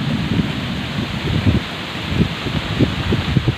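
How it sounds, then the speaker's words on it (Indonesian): A strong wind and rain storm at night by an animal pen: a dense, continuous roar of wind and rain with gusty low rumbling swells, steady and fairly loud, with no voices. "Tuh teman-teman, anginnya kencang."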